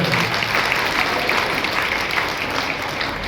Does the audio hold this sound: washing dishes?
no